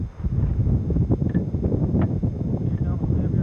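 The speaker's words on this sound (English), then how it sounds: "Here comes the heavier wind." Heavy wind gusts roar ahead of an approaching tornadic supercell near Fritch, Texas, a loud, continuous buffeting rumble with shifting surges throughout, and some voices can be heard beneath the wind.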